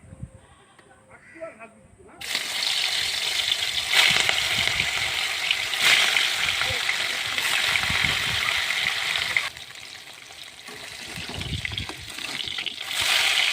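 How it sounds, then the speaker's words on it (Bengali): Fish frying in hot oil set up a steady, hissing sizzle that starts abruptly after a couple of seconds and runs on continuously, close by, with occasional spoken remarks and household noise. "তারপর আমি মাছগুলো ভেজে নেব। তেলটা গরম হয়ে গেছে।"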